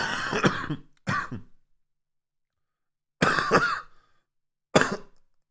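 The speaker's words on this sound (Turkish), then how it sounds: "Ne biçim öksürüyorum" A person coughs in four harsh bursts, two close together, then a pause before two more, with silence in between.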